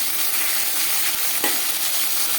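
A rohu fish head fries in a pan with a loud, continuous close sizzle, and a single soft utensil knock lands midway. No one speaks.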